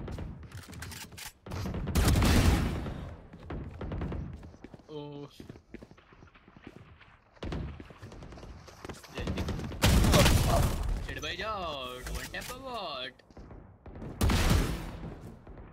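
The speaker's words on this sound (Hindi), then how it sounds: "पेड़ को भयंकर शॉट मारा मैंने अभी" Gunfire from a Valorant match comes in several sharp bursts, some rapid and clustered, mixed with footsteps and game effects, while a player talks over much of the action.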